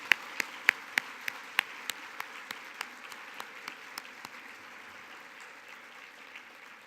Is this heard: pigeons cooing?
no